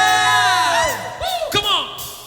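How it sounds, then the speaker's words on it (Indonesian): A church congregation at a Sunday worship service cheers and shouts praise together, making a loud, close swell of overlapping whoops and long rising and falling voices. "Berikan dia sorak-sorai pagi hari ini."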